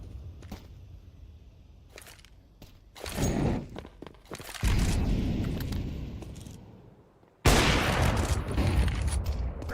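Pistol shots from a Desert Eagle in a professional Counter-Strike European Pro League match, several loud sharp bursts with quiet gaps between them and faint footsteps and clicks throughout.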